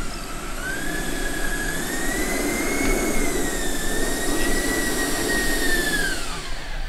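A giant radio-controlled Airbus A350 XWB model jet flies past with a loud, steady turbine whine and roar whose pitch rises and falls as it passes, with a constant rushing drone underneath.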